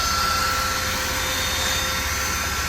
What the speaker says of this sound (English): Vacuum cleaner comes in handy sometimes.